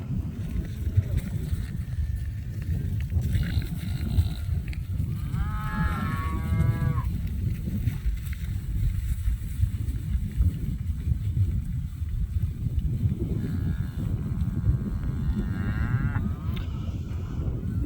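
Cattle grazing mature grass at ultra high density low several times across the field, drawn-out moos rising at intervals over a steady rumble of wind and open-air noise.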